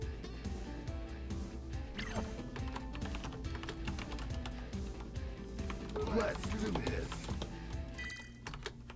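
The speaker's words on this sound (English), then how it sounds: "Pay no attention to the furious typing sounds that you're hearing" Furious, rapid typing on a computer keyboard clatters continuously at low level beneath background game sound during an online Street Fighter V session.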